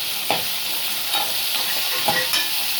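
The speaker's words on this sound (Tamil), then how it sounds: "இப்போ வெங்காயம் பாருங்கள் வதங்கிடுச்சு. இப்போ தக்காளி போட்டுக்கலாம்." Tomatoes tipped into onions already softened in a pan for a garlic kara kuzhambu: a loud, continuous hiss of frying with several scraping strokes of a spoon at an even rhythm.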